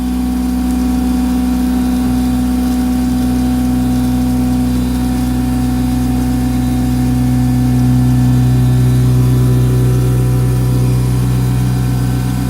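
A machine tool cutting metal at about 3000 rpm with a 400 thou depth of cut, a loud steady hum of layered tones that holds throughout, with a shifting pitch near the end.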